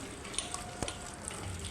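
Water poured into a cooking pot while making a brinjal and tomato kadaiyal, a soft close splashing trickle with a few small sharp clinks and spatters, fairly quiet.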